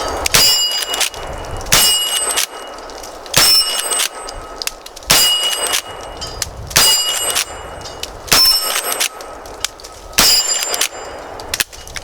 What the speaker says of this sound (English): So let's go ahead and get to shooting this. We're shooting some 38 rounds in it first.